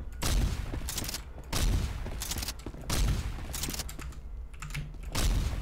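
Rapid bursts of automatic gunfire in SCP: Nine Tailed Fox, four sharp volleys about a second apart, each a dense rattle of shots ringing out loud and close with brief pauses between.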